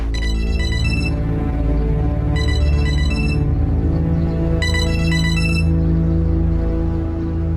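A phone ringtone plays a bright, repeating melodic pattern in three bursts over a sustained tone, loud and continuous with no one speaking.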